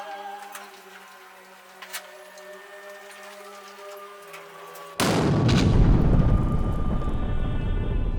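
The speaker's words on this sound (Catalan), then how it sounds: "una terrible explosió va fer volar les estructures del fort de la Trinitat" Gunpowder stores blow up at a fort, heard as a sudden heavy boom that bursts in after a quiet musical passage and gives way to a loud, sustained rumbling roar.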